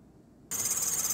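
A slipping car engine drive belt squeals, a steady high-pitched shriek that starts abruptly after half a second of quiet and holds loud and even to the end, with no talking.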